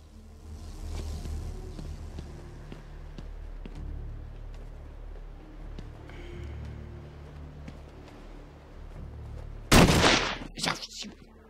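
Enemy gunfire in Batman: Arkham Asylum, faint scattered shots and game ambience throughout, then a loud close burst of shots near the end.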